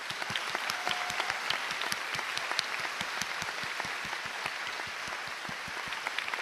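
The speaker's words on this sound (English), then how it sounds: "A round of applause." A live esports event audience in Tokyo claps steadily and evenly at a Gran Turismo World Series award ceremony, a dense, continuous patter of many hands held at one level from start to finish, with no talk over it.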